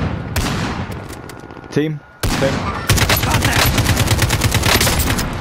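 Rapid bursts of automatic gunfire crackle through a Call of Duty Warzone match, loud and close, with a brief pause and then sustained firing while a player speaks briefly.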